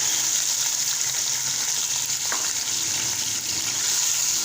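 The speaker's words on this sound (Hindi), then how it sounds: "चिकन को भूनेंगे, यहाँ पर फ्राई करेंगे।" Chicken pieces frying in a pan for degi-style chicken korma, a loud, continuous hiss and sizzle that holds steady throughout, with a brief stirring scrape midway.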